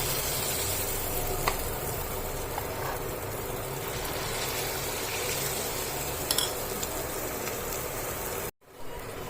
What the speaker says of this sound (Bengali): এবার আমি একটা একটা করে মালপোয়া ছেড়ে দিচ্ছি